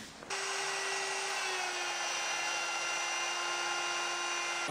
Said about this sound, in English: so I'm running the router at the slowest speed.